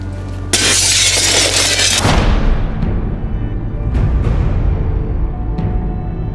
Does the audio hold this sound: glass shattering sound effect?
yes